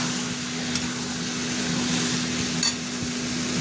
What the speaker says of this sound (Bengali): এইবার আমি জল দেব